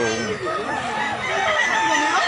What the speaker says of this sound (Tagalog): Daghang kay manok mga idol. Daming manok.